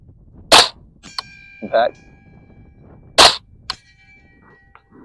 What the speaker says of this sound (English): Let's try the 12-inch gong.